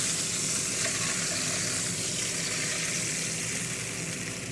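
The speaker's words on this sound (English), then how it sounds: "Y'all be careful when you fry bacon because it's so disrespectful to you sometimes when you're frying it." Bacon frying in a skillet with grease building up, a steady dense sizzle and crackle of hot fat that runs on without pause, close by and moderately loud with no talking.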